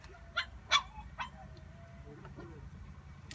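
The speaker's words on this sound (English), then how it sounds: "That's somebody's dog. It must be a little dog." A small dog barks in a few sharp, high yips at a distance outdoors, with pauses between them over a low background hum and no one talking.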